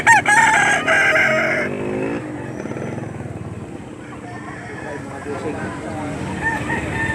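A rooster crows loudly and close at a poultry auction market in Lipa, Batangas, then the crowing gives way to a busy murmur of birds and market bustle.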